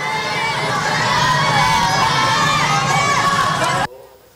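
Crowd of elementary schoolchildren at school windows overlooking a courthouse area shouting slogans together, a loud, dense wall of young voices and cheering that runs steadily, then cuts off abruptly near the end.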